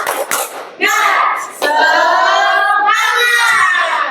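A group of children performs a rhythmic clapping cheer in a classroom, loud sharp claps at first giving way to sustained shouting voices chanting together at close range.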